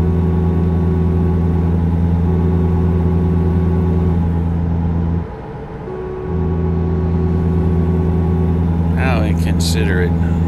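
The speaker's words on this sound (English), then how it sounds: "And now I have to slow down, downshift." A car engine drones steadily and loudly, its tone dropping and changing briefly midway as the driver slows and downshifts, then settling back into a steady hum, with a short burst of higher sounds near the end.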